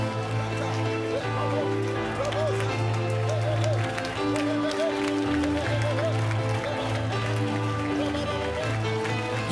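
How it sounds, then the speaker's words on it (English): Church congregation clapping hands and stomping feet during a prayer call, a dense, continuous rattle of clapping under loud sustained music and singing voices. "Clap your hands, stomp your feet, and command every storm to go."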